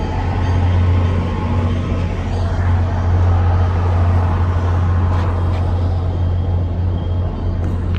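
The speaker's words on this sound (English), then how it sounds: "Here comes the train." A train engine rumbles past close by, loud and steady with a deep low drone throughout and no pause.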